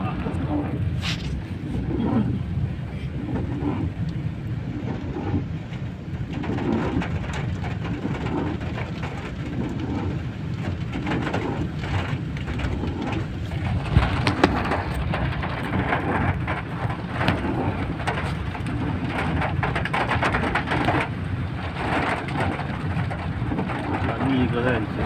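Steady heavy rain falls throughout, a dense continuous hiss outdoors near a check post on the way to Kerala, with a voice briefly audible in the background.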